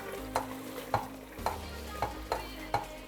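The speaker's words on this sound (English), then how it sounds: "our sauce for the egusi has been frying." Egusi sauce frying in oil in a pot, with a soft continuous sizzle and about six evenly spaced scraping stirs of a spoon, quiet and close with no talk.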